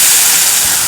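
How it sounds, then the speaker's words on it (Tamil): Tamarind water for rasam poured into a hot pan, giving a loud, steady rush of steam and sizzling hiss heard up close for under a second. "நம்ம கலந்து வச்ச ரசத்தை இதில், அதாவது புளி தண்ணியை இதில் சேர்த்துக்கலாம்."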